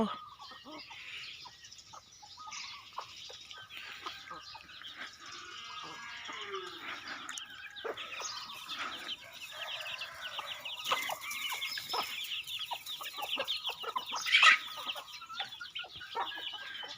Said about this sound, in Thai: ทั้งเป็ดทั้งไก่ทั้งเสียงนก